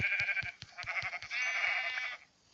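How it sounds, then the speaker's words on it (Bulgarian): Sheep bleat in the video game Minecraft, with several wavering calls layered over a regular series of short thumping footsteps, fairly close and alone. "Тук сме открили две овци и една кокошка."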